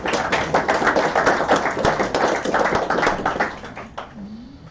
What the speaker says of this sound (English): he's not here, but a round of applause.